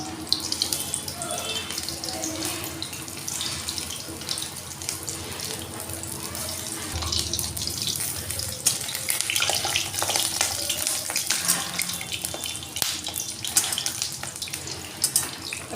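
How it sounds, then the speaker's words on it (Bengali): Hand-shaped drumstick flower fritters frying in hot oil, a continuous crackling sizzle with dense bubbling that holds steady and fairly loud throughout. "আমি এরকম হাতে করে বড়াগুলো বড়ার শেপে দিয়ে এরকম করে তেলের মধ্যে দিয়ে দেব। দিয়ে বড়াগুলো আমি ভেজে নেব।"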